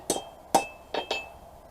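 Cold rebar being hammered straight while forging a throwing knife gives four sharp, ringing metallic clinks in an uneven rhythm, close and clear with no talk.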